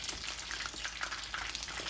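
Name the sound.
chicken wings deep frying in oil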